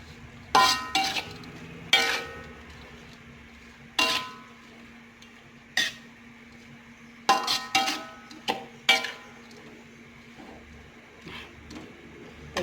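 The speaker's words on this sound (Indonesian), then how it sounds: "kita aduk lagi." A spatula scrapes and clanks against a pan while bean sprouts are stir-fried with a little sugar, giving about ten sharp metallic knocks in uneven bursts, close and fairly loud, with no talk.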